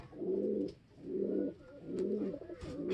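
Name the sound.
pigeon cooing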